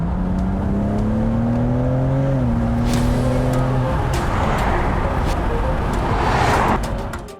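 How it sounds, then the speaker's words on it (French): A BMW M inline six-cylinder engine revs up and holds a smooth droning note, then settles and fades into a rushing, whooshing hiss near the end. "Zes cilinders in lijn, de max van de max. Vooral voor wie van deze sound houdt."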